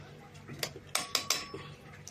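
A metal utensil mashes cooked amaranth leaves inside a pressure cooker pot, giving a few sharp scraping clinks and knocks against the metal, fairly quiet and close, spaced irregularly over a soft background.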